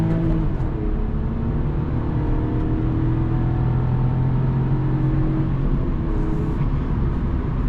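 A 2026 Kia Picanto with a five-speed gearbox revs hard under acceleration, a steady, loud engine drone with rising harmonic tones heard from inside the cabin, continuous throughout.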